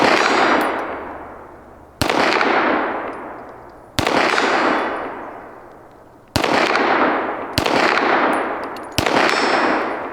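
Six sharp 9mm pistol shots, each followed by a bright metallic ring of a steel gong target that decays slowly, spaced about one to two seconds apart.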